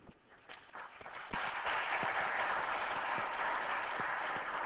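Faint applause from an assembly meeting, building gradually and then holding as a steady, distant patter of many hands.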